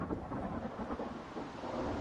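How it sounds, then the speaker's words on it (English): A thunderstorm in the video game Gas Station Simulator, heard as a low, continuous rumble of distant thunder with a soft wash of rain and wind, faint and steady, with no talking. "It's like I hear the storm"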